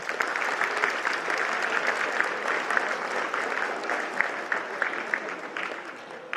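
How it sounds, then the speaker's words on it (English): Crowd at an eighth-grade school awards assembly applauding the football team, a sustained round of clapping with individual claps popping out, slowly thinning toward the end. "So let's give them a round of applause"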